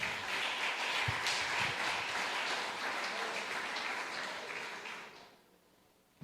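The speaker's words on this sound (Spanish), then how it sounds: "Vamos a darle un aplauso al Señor en esta hora." Church congregation applauding together in a worship hall, a steady wash of clapping that holds for about five seconds and then fades out quickly.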